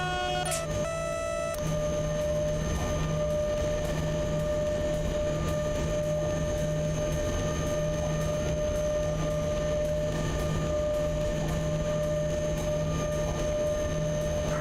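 An E186 TRAXX electric locomotive hauling a train in the SimRail railway simulator hums steadily throughout, with a sustained electrical whine and rolling noise after a brief tonal start, no talking.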